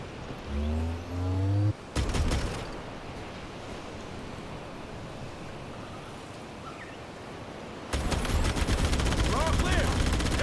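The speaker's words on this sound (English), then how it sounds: "Right trigger fire chain gun." Rapid bursts of vehicle turret chain gun fire in a video game, loud and sustained, with sharp repeated shots from about two seconds in and again near the end, amid game noise and a brief voice.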